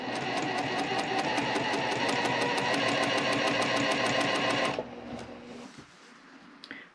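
A sewing machine stitching quilt seams runs loud and steady with a rapid, even needle clatter for nearly five seconds, then stops abruptly, leaving a few faint clicks and handling sounds.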